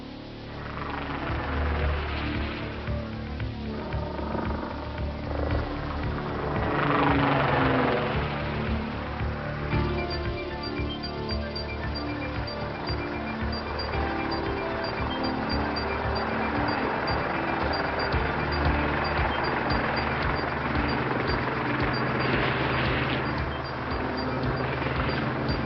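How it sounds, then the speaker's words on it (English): Lynx military helicopter in flight, a continuous rumbling rotor and engine drone with slowly shifting wash, steady and moderately loud throughout. "Lynx can fly backwards at 80 knots."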